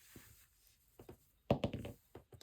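A normal die is rolled on a tabletop, giving a quick series of light clattering knocks that peak in a short burst and then settle, faint and close.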